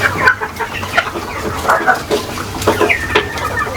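Country chickens cluck on a free-range poultry farm. Several birds sound close by in an irregular chorus of clucks and short calls.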